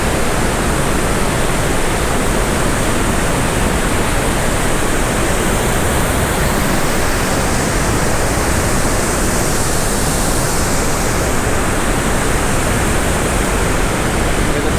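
Water pours out of the entrance of the Jeita Grotto limestone cave in Lebanon, a loud, unbroken rushing roar like a waterfall or fast stream, steady and close throughout with no voices.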